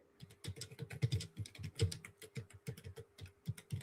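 Rapid, steady keystrokes clatter from a computer keyboard, close and fairly quiet, in a continuous run with no talking.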